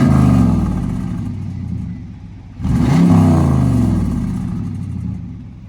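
A straight-piped 5.7 Hemi in a widebody Dodge Challenger revs loudly up close, two strong throttle blips separated by a short dip, with a deep rumbling exhaust between them.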